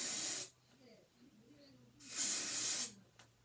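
Wig adhesive spray blasted in two bursts from a can, a loud close hiss for about half a second, a pause with faint murmuring, then a longer second burst.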